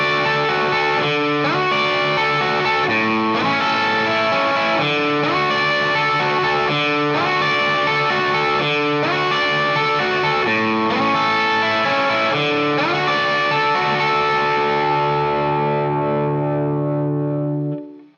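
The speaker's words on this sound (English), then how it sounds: "we're gonna start off with this intro riff that's all based around 2 chord shapes. Here's what it sounds like." Distorted electric guitar plays an intro riff built on two chord shapes, as steady rhythmic chord stabs with effects, loud and alone before ringing out at the end.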